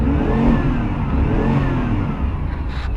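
An old Chevrolet OBS pickup's gas engine revs hard up close, its pitch rising and falling in waves over a steady loud roar, with no voices.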